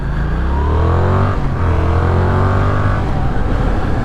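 A loud motorcycle engine revs up and accelerates hard, pitch climbing, briefly dropping at a gear change, then rising again.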